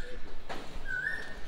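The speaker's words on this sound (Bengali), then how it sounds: "কোকিল ডাকছে," An Asian koel gives a single short, rising whistled call at a distance across quiet open grounds near the Tarapith temple, over faint background rustle and air.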